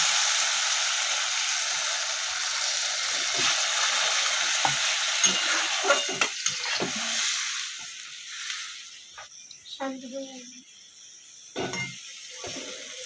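Pointed gourd cooks in poppy seed paste as water is added, giving a steady bright sizzle and frying hiss that softens and breaks into scattered stirring scrapes and crackles toward the end.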